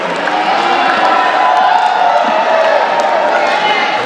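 A crowd cheers and applauds newlyweds at a mass wedding of 22 couples in Pasig City, a steady, loud wash of clapping and shouts that holds unbroken throughout.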